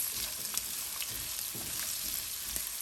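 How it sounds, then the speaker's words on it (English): Chopped onions sautéing in a pan with a continuous close sizzle and hiss, a few soft scraping stirs standing out over the short stretch. "To this, I'll add in my chopped onions. And I'll saute these onions"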